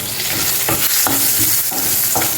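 Curry leaves dropped into hot oil for a sweet bitter-gourd curry, crackling and sizzling loudly and continuously up close, with a few sharp pops and stirring scrapes breaking through.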